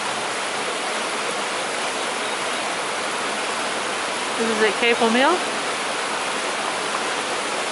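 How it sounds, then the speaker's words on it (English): Canal water at Capel Mill in Stroud overflowing its bank and pouring down the side of a wall toward the River Frome, a steady, broad rushing wash throughout, with someone speaking briefly over it midway. "And this is the canal overflowing."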